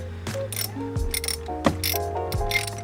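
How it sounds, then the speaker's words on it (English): A ratchet driver backs Torx screws out of a Nissan 370z steering wheel, giving close, loud clicking pawl strokes in a few short bursts with metallic turning between them. "Now we're just basically taking the Torx out of the wheel."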